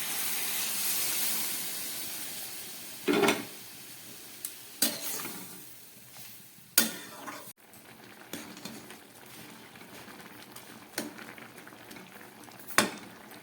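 Warm water hits a pan of spice-fried curry for shrimp and vegetable chorchori, giving a steady hiss and bubbling boil with several sharp knocks of a spoon against the pot, close up and with no voices.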